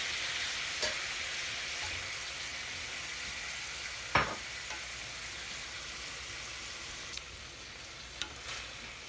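Home-grown string beans, broken into short pieces, stir-frying with oyster sauce in a pan: a continuous close sizzle with occasional sharp knocks of the utensil, no voices.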